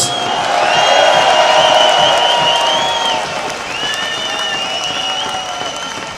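A large outdoor rally crowd cheers and applauds for Northern Ireland, a loud sustained roar of clapping with whoops and shouts rising above it, swelling then easing slightly.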